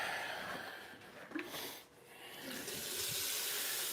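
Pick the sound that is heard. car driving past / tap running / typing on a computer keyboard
tap running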